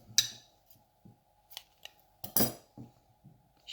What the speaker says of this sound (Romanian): Tai firul